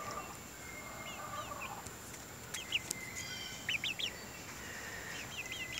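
Young Barred Rock chickens cluck and peep softly at a distance, giving short, scattered high calls over a quiet outdoor background hiss.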